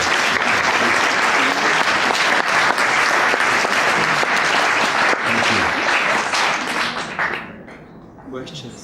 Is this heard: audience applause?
yes